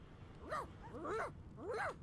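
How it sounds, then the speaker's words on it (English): A dog in the video game Divinity Original Sin 2 whines three times in a row, each a short rising and falling cry, fairly close and clear, with no talk over it. "The dog whines and continues pawing at its nose."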